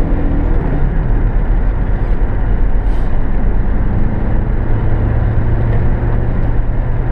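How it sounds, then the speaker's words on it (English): A Volkswagen Vanagon Syncro Westfalia camper drives on the highway at speed, a loud, constant engine drone and road rumble from inside the cabin, with a low hum running steadily underneath. "Head down the highway here and get up to highway speeds"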